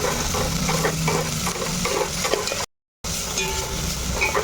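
Small chopped onion pieces frying in a pan, a steady sizzle broken by scraping stir strokes, cut off by a brief dropout near the end before resuming.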